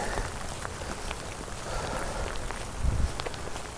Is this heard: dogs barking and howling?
no